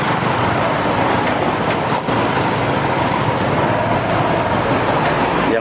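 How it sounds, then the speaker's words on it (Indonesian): Heavy traffic crawls through a jam in Juwana, Rembang, with big tronton trucks passing close by, making a dense, steady roar of engines and road noise throughout, with no talking. "Yang melewati itu mobil-mobil besar semua Lur, tronton"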